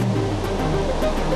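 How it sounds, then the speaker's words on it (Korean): Rough Indian Ocean surf, with waves over two metres high pounding a fishing harbour shore ahead of a typhoon, forms a continuous, heavy roar of crashing water. "파도 소리가 예사롭지 않습니다."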